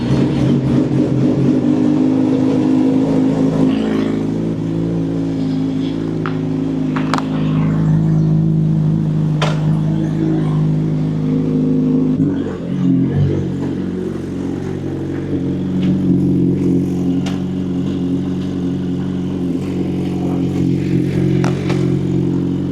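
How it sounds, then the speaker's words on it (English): A Suzuki Hayabusa motorcycle engine idling after a cold start, a loud, steady, close rumble that holds its tone throughout with a brief dip in pitch around the middle. "Hayabusa Awaken. Here go the cold start."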